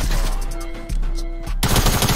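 SMG fire from the Fortnite video game sprays in rapid, loud, continuous bursts, with a brief gap before a final dense volley.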